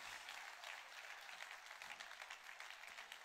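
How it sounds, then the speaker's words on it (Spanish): Congregation applauding in a church during a sermon, with sustained, steady clapping from many hands. It is fairly faint and distant and continues throughout without pause. "dale más fuertes aplausos al Rey de Reyes y Señor de Señores"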